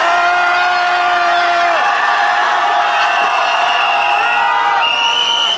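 Crowd of marching families near Cheong Wa Dae shouting together in a sustained loud roar of voices, with whoops rising over the massed cry.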